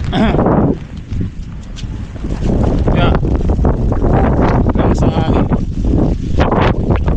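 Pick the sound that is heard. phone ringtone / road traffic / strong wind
strong wind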